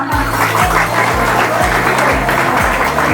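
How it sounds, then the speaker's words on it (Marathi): Loud, continuous applause from a women's health event audience fills the space, dense clapping with a low rhythmic beat underneath. "जोरदार आपण टाळ्या वाजवूया"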